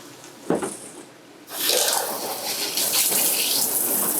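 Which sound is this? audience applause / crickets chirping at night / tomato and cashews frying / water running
water running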